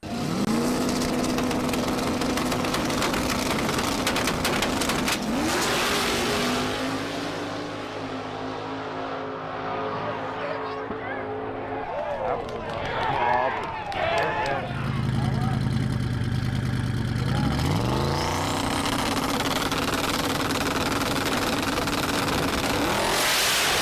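Zach Jones' small-tire March to Win drag race car making passes, engine roaring and revving hard, dropping off and then rising again as the car launches; loud and close, with sounds of people and surroundings.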